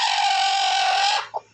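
A single drawn-out, high squawking call from a sitting hen, loud and close, breaking off into one short cluck at the end.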